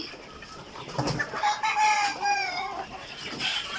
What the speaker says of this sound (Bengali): মাচার উপরে মুরগি।